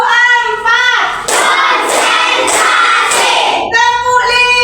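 A class claps in rhythm for a few seconds in a school lesson, with a teacher's close, loud voice heard before and after the clapping.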